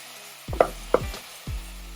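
Ground meat browning in a pan for chili, a wooden spoon crumbling and stirring it, giving a few soft scraping knocks over a faint steady sizzle, close and quiet with no voices.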